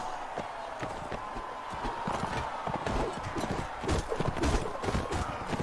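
Hooves of a galloping horse in the video game Warsword Conquest beat in rapid, uneven clip-clop bursts that grow louder toward the end, over a constant low rumble of game ambience.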